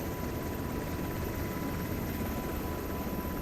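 Steady UH-60M Black Hawk helicopter rotor and engine drone in a video game, loud and continuous throughout, with no voices.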